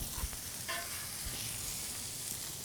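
A smash burger patty sizzles on a hot grill, a steady close frying hiss with a brief sharper crackle near the start, no voices.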